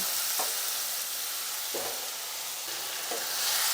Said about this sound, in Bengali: আমি এই পর্যায়ে ম্যারিনেট করা মাংসটা আস্তে আস্তে এর মধ্যে দিয়ে দিচ্ছি